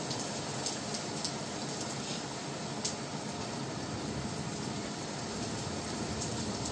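Heavy rain pours steadily and close by, a dense unbroken hiss of drops with faint scattered patters, no voices over it.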